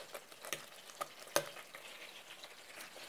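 Swedish meatballs (köttbullar) frying in a pan over medium heat, a quiet, steady sizzle with a few soft stirring scrapes and taps.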